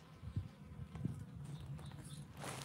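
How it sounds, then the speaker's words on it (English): Bees hum softly in a vegetable garden, a low continuous outdoor buzz with faint rustling and small knocks around it. "And look at all the bees."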